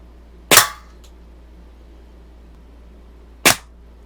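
Two sharp, loud shots from a Daisy 853 air rifle striking an aluminum root beer can, spaced about three seconds apart, each a crisp crack with a quick decay and no talking.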